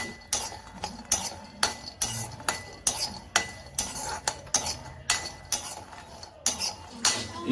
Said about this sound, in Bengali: শুকনো খোলায় যা টেপিট ওপিট করে একটু ভেজে নেব